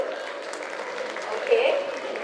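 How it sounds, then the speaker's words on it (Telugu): At a Telugu society Ugadi celebration, a crowd applauds children and their parents. The clapping is a soft, diffuse wash beneath a voice talking over it. "పెద్ద బిగ్ రౌండ్ ఆఫ్ అప్లాజ్ అండి ఇంకా బాగా కొట్టచ్చు"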